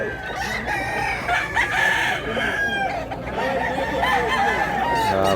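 Several roosters crow and cluck over one another in a loud, crowded chorus, continuous throughout with overlapping calls close by.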